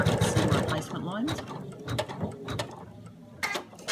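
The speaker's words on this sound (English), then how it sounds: "skip your machine back to step 6, which will then stitch our placement lines for our beak and our feet" An embroidery machine stitches placement lines for a beak and feet, a close mechanical whirring and rapid ratcheting clatter that rises and falls, with occasional speech-like sounds mixed in.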